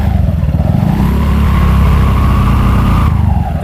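Honda PCX 160 scooter with an upgraded CVT revs steadily and loudly, a dense low engine drone holding even throughout with a slight rise and fall in pitch, close by and alone.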